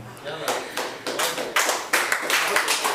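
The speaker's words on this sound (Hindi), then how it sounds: "तालियों में जोर नहीं है आपकी" Scattered clapping from an open mic poetry audience, a handful of distinct claps and taps at an uneven rhythm, fairly close and moderately loud.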